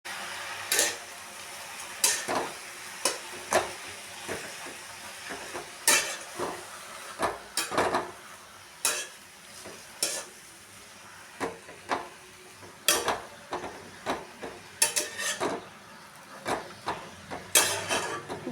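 Vegetables, including flowers, get stirred into fried onion and chilli in a pan: a series of sharp metallic scrapes and clanks from a spoon against the pan, irregular and fairly close, over a faint sizzle.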